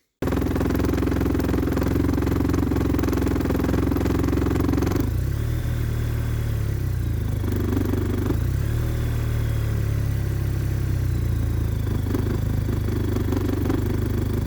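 An Arctic Cat Norseman snowmobile engine that is being troubleshot runs loud and close, holding a steady rumble before its revs shift down and waver through the rest of the run. No voices.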